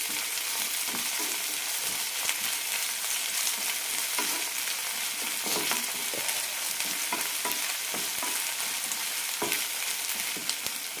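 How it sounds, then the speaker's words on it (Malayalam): Onion, ginger-garlic paste and chopped tomato sizzle steadily in a hot pan, with a constant close frying hiss and repeated scraping stirs, no voices. "കൂടെ തന്നെ ചെറിയൊരു തക്കാളി അരിഞ്ഞതും ഇടാം നന്നായി വഴറ്റാം"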